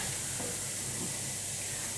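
A flour and butter roux cooks in a pan with a steady, soft sizzling hiss throughout, continuous and close with no talk over it.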